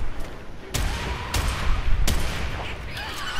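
Weak gun firing in Warframe amid a chaotic fight, a few sharp, loud shots spaced under a second apart over a dense rumble of battle noise.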